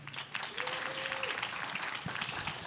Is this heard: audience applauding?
yes